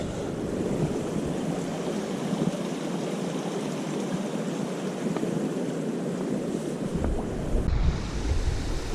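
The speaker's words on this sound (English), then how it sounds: "definitely some more water here, which is always nice, these little mountain streams" A small mountain stream rushes across a trail water crossing, a steady broadband wash of flowing water mixed with wind on the microphone, continuous and fairly loud, with a brief low rumble near the end.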